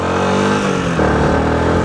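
A Yamaha R6 sport motorcycle engine revving up close, a loud sustained mechanical drone with rising and falling pitch as the throttle is worked, no voices over it.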